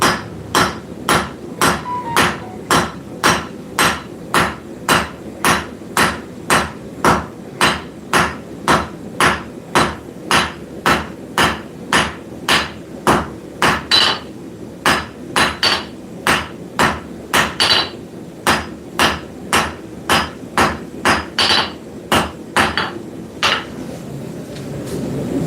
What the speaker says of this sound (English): So we're going and forging it into a square and a taper.